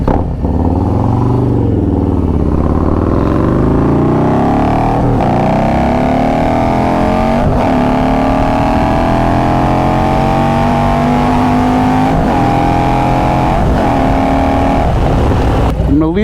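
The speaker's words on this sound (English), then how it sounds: "I'm gonna leave the bike running for a second." A Harley-Davidson motorcycle with a 128 engine idles loud and close in one steady rumble, its pitch wavering slightly and rising a little partway through, with a voice talking over it.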